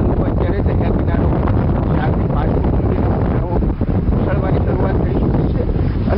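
Strong wind from the Arabian Sea buffets the microphone at the shore of Gir Somnath near Veraval port during rough seas, a loud, continuous low roar and rumble that swamps any surf detail and carries no voices.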